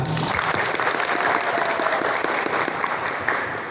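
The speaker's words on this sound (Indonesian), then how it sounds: "tepuk tangan untuk regu A" A crowd gives steady, dense applause for a team at a school debate competition in Tarakan. The clapping is loud and continuous for several seconds and fades slightly at the end, with no speech over it.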